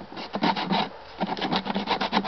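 Rhythmic scratchy rubbing of sandpaper deburring jigsaw-cut wood edges, a steady series of short back-and-forth strokes with a brief pause midway, close and fairly quiet.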